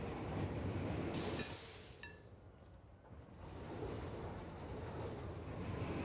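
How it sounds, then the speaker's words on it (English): Train in the Satisfactory video game rolling along its track, a steady broadband rumble with a sharp squeal and clack partway through, loud and continuous with no talk. "This train should be able to go across here."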